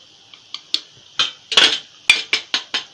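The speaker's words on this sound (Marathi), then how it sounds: "चमच्यानी 2 चमचे धना पावडर टाकली, 1 चमचा जिरा पावडर टाकली आणि हळद टाकली आपली." A metal spoon taps and clinks about ten times against a pan while coriander, cumin powder and turmeric go in, bright sharp knocks in an irregular rhythm, close and clear with no talk.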